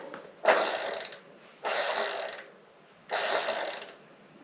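Bike freewheel ratchet spun in three separate bursts, each a dense, rapid clicking buzz lasting about a second with short pauses between, close and alone.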